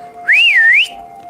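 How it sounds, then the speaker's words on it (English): A person whistles one clear, loud note that rises, dips and swoops back up over about half a second, with a faint steady hum underneath. "I can do that, but I can't do the high-pitched, long-range whistle."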